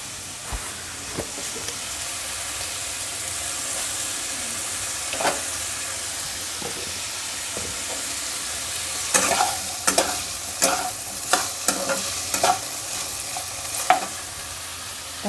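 Food fries and sizzles in white oil in a home kitchen, a constant hiss under sharp scraping stirs of the spatula that turn brisk and frequent toward the end, with nobody speaking.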